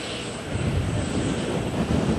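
Concorde supersonic jet aircraft engines at an airport, a steady loud roar heard from some distance, continuous and without talking.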